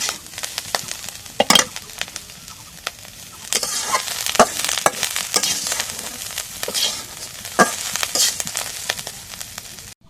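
Okra is stir-fried with green chili in a pan, with a steady sizzle broken by repeated clatter and scraping of a spatula stirring the vegetables, close and fairly loud with no voices.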